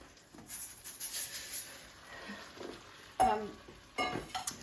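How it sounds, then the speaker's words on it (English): Arborio rice stirred through bubbling butter in a pan for turkey risotto, a steady close sizzle and frying hiss with scraping stirs and a couple of sharper pan knocks near the end, no talk. "So the butter is bubbling. I put my rice in first."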